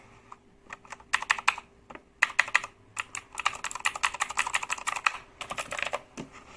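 Close, crisp keystrokes on a Razer BlackWidow V3 mechanical keyboard with clicky switches, starting in short irregular bursts and building into a rapid, steady stream of typing, heard alone without speech.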